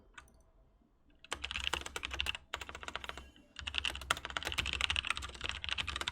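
Fast typing on a computer keyboard while writing a chat message during a ranked match, dense close-up key clatter in two bursts with a short pause between them.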